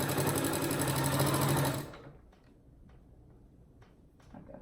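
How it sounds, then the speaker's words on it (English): A sewing machine stitches a half-inch seam on a pillowcase, a loud, steady close hum for about two seconds that then stops, leaving faint handling clicks. "We're just sewing a 1-inch or 1/2-inch seam all the way"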